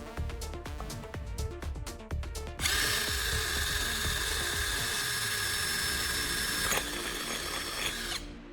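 Power drill boring a hole in the bottom of a stainless steel cup: a few short stuttering bursts, then a sustained high whining grind that runs steadily for several seconds before stopping.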